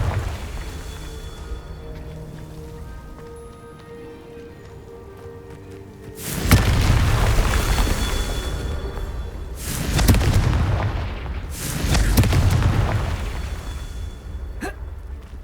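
Three heavy booming explosions from the Confringo fire spell in the video game Hogwarts Legacy, each a loud blast with a rumbling, crackling tail lasting a couple of seconds, separated by quieter game ambience.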